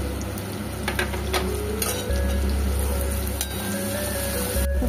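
Chopped garlic, onion, ginger and green chili frying in a pan, a loud continuous sizzle with occasional clicks and scrapes of a spoon or spatula against the pan.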